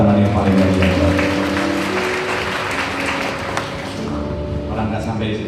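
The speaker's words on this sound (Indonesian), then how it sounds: "Tepuk tangan yang paling baik." Applause from a church congregation at a Sunday sermon rolls on as a steady wash of clapping, layered with sustained musical tones and some voices underneath.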